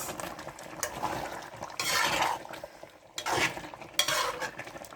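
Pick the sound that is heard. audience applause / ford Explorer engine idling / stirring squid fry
stirring squid fry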